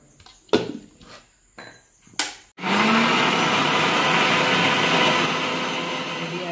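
A mixer grinder blends raw mango juice with mint leaves, salt, sugar and cold water: a few sharp knocks and thuds, then the motor starts into a loud, steady whirring roar that holds to the end.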